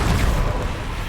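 A Confringo blasting spell explodes in Hogwarts Legacy, a single heavy low boom that rumbles and fades over about a second, with no talk over it.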